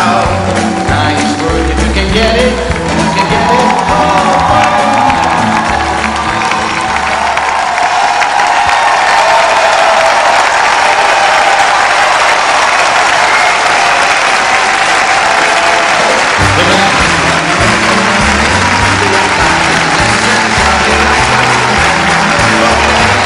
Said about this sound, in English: It's your applause, couples.